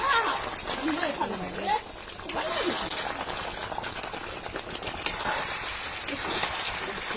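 Food sautéing and being stirred in a pan in a home kitchen, a soft continuous sizzle with occasional scraping and bubbling, heard beneath someone talking throughout.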